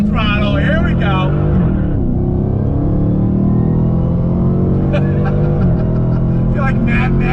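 Purple Plum Crazy Dodge Challenger Hellcat widebody accelerating hard while merging on throttle, a loud, steady engine roar with rising pitch sweeps, close and continuous throughout.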